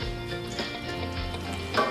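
Steady frying sizzle of pine nuts roasting in butter in a pan, with a soft crackle running throughout and no talking.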